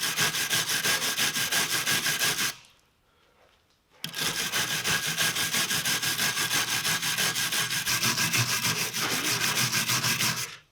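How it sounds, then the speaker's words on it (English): A wire brush scrubs grime off the pad area of a rear brake caliper on a new BMW Mini. It makes close, harsh, rhythmic rasping strokes, pauses for about a second and a half, then resumes steadily. "So be sure that you clean it up. Just a wire brush, maybe some brake cleaner."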